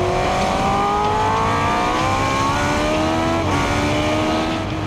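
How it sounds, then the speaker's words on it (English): A 1970s Formula One race car with a Cosworth V8 screams loudly and close, its high-pitched engine note climbing steadily through the gears under hard acceleration, with no voices. "John Bowe behind the wheel of Joe's Cosworth V8 powered 70s Formula One."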